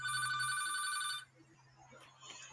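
Telephone ringing loudly in bursts for over a second, then cutting off, leaving quiet room background.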